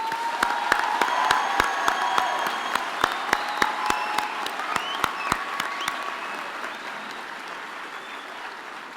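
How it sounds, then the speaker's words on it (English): A university autumn graduation ceremony audience gives the graduates sustained applause, a steady wash of many hands clapping in a large hall, with a few sharp, prominent claps standing out near the front throughout. "I think we can give them a very huge hand of applause"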